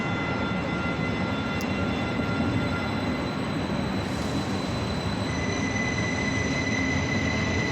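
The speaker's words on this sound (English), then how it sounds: "I'm just letting the train do its thing." A train rolling past at close range, a loud continuous rumble with steady high wheel squeal running the whole time and no break in the noise.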